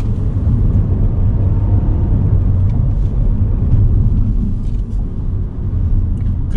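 Nissan Kicks e-Power electric car accelerating hard out of a corner on a test course, a loud, steady low rumble and road roar that holds throughout with no voices.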